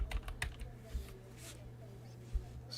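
A few quick keyboard taps at the start, then scattered soft clicks over a quiet hum.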